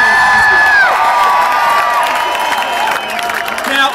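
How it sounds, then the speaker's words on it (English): A large crowd at a Melbourne lockout rally cheers, whoops and applauds loudly and continuously, with shouting voices rising over the clapping throughout. "Give yourself a huge round of applause."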